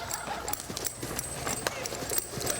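Horse hooves clip-clopping at a steady walking rhythm during a riding lesson at an equine educational event, close and distinct, with an instructor's voice speaking over the footfalls.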